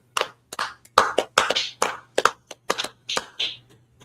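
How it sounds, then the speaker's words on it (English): A small audience claps in a brief, uneven burst of separate sharp hand claps, close and fairly loud, trailing off after about four seconds. "Let's clap it up."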